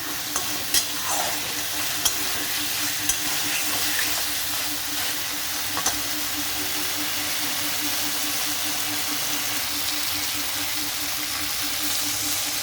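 Spice paste and taro cooking in a frying pan, giving a constant loud sizzling hiss with scraping sounds of stirring and a few light knocks, up close and continuous throughout.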